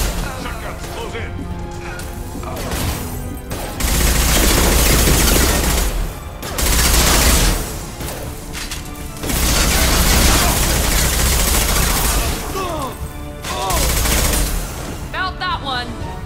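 Shotgun blasts in the sci-fi shooter Mass Effect 2: several heavy booming bursts in close combat, each lasting a second or two, mixed with crashing impacts and game music, with voices speaking between the shots.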